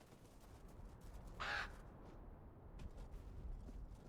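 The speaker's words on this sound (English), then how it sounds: "That's a very loud bird." A single loud crow caw rings out in the Tainted Grail video game, harsh and close for about a quarter second against a faint ambient background.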